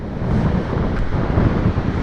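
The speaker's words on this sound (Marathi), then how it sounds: "हा आपला खाली समुद्र" Steady wind rumble mixed with the wash of sea waves along a creek shore on the Konkan coast at high tide, loud and continuous with no talking.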